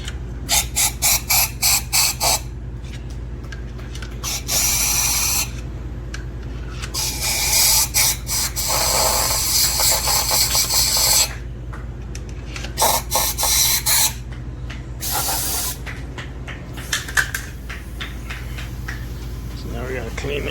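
Brake cleaner hisses from an aerosol can in several long, loud bursts during work on a Honda Civic EG engine with a Rotrex supercharger, with rapid clicking and mechanical rattles between sprays.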